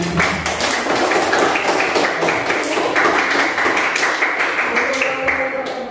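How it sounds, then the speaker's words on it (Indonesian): Students clapping their hands together in a vocational school English classroom, a steady patter of many hands filling the room for several seconds, with some voices mixed in. "Coba dulu tepuk tangan dong."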